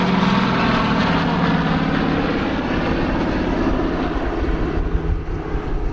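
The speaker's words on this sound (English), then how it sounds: "I'll just bring the aircraft in now." A Douglas C-47 Dakota propeller aircraft roars loudly overhead at an air show, its radial engines producing a steady, powerful drone that fades slightly toward the end.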